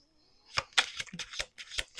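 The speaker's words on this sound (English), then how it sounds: "I know this is my second shuffle." Tarot cards being shuffled by hand produce a handful of close, crisp riffling snaps and taps in uneven bursts, with no one speaking over them.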